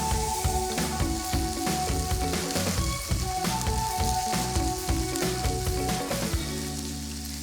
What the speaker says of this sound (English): let's wait for that bacon to get really crispy and then we'll add our garlic and chilli